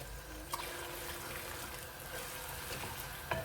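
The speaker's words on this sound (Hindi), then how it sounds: "तो इसको ही बस डाल के हल्का सा बस इसको फ्राई करेंगे कि इसकी हल्की सी खुशबू आ जाए" Ginger garlic paste fries with onions in a pan, making a soft, even sizzle at low level with a couple of faint clicks of a utensil. No one speaks.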